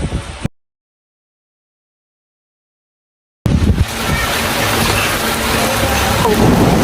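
Dense, roaring rain with gusting wind fills the clip after a silent gap, steady and loud, with low rumbling that may be thunder.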